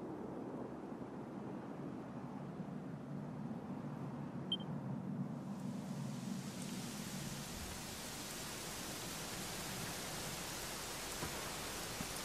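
Steady rain falling in the Dragon Quest XI video game, an even hiss at moderate level that brightens and fills out partway through, with no voices.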